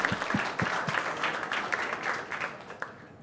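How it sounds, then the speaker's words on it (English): An audience applauds presenters at a startup pitch night, with scattered sharp claps that thicken into a brief steady round, then thin out. "Round of applause for our fourth presenters of the night, About You Family Medicine."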